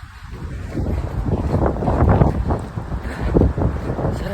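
Strong wind buffets the microphone in loud, rumbling gusts that swell and fade, with no clear voices.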